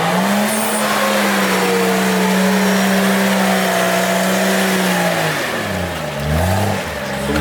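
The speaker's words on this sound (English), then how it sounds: "Cherokee's gonna pass through on his 36 wheels" A Cherokee off-road vehicle on 36-inch wheels drives through, its engine droning loud and close, then revving and rising in pitch toward the end.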